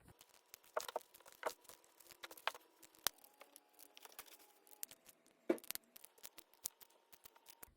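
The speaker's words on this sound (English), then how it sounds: "Now it's time to trim this excess fleece that's around the mask." Scissors trim excess fleece around a handmade mask, a series of quiet, close snips and rustles of fabric at an irregular pace.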